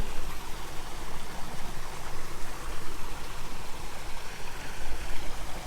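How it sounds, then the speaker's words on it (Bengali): Steady rushing of water pouring down a small artificial waterfall at Gazipur Safari Park, a continuous broadband splash heard close and alone. "এ পাশে একটা কৃত্রিম ঝর্ণা আছে এটাও খুব ইন্টারেস্টিং"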